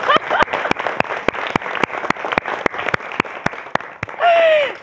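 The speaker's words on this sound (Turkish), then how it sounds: "Çocuklar sizin için güçlü bir alkış." Children clapping in regular, unison beats, sharp and close, a quick even rhythm of around a dozen claps, ending with a loud sustained whistle-like tone and a rising squeal at the close.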